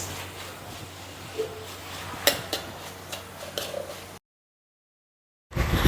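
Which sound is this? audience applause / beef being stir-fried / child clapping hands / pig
beef being stir-fried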